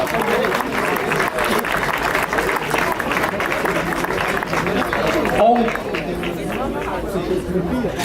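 Audience applause for the cadet women runners at an awards ceremony after a 10 km road race in Castelsarrasin, steady clapping and crowd chatter throughout under a voice over a loudspeaker.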